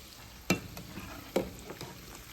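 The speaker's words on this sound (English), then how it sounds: "In between, gently flip and fry until it is dark, rich brown in color." Semolina rava vadas frying in hot oil, a soft bubbling sizzle with two distinct knocks as they are flipped, close and quiet, no speech.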